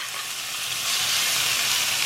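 Beef slices frying in beef fat in a hot pan give a steady, close sizzle that swells louder after the first second and stays dense and hissing to the end, with no voices.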